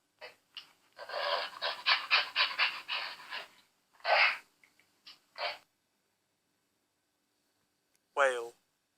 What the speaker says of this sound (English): chimpanzee,